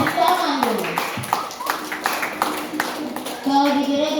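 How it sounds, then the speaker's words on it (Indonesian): An audience at a preschool cluster gathering in Fakfak, Papua Barat, claps hands in scattered, uneven bursts close by, mixed with children's voices and adults talking over the clapping. "Tepuk tangan dulu."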